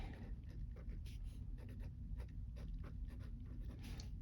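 A pink pen writes on paper in quiet, close scratchy strokes, short rapid scribbles repeating steadily with no voices.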